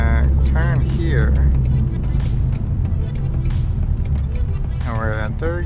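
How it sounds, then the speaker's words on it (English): A Ford Mustang S550's engine rumbles low and steady inside the car as it slows toward a stop, with brief shifts in tone, while someone talks over it throughout. "you're coming to a stop right now, so let me go down a couple gears"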